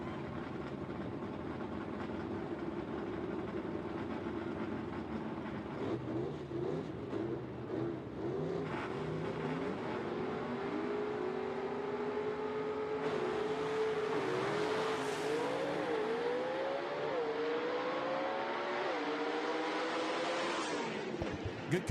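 Gasser drag race cars making a side-by-side run at Knoxville Dragway, a loud sustained engine roar with rising pitch through the gears, continuous and steady for the whole span, no talk over it.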